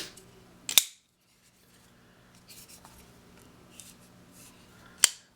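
A Kershaw Launch 1 automatic knife fires its blade open with a sharp metallic snap, heard twice as crisp, loud clicks about four seconds apart, with faint handling rustles in between.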